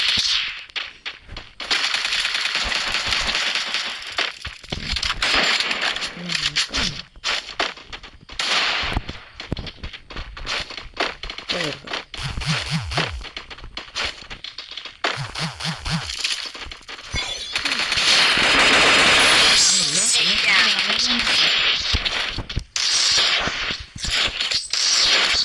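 Video-game M4A1 rifle fire crackles in repeated rapid bursts of sharp shots, loud and near, with brief gaps, then a long sustained burst heavy with impact and shattering noise near the end.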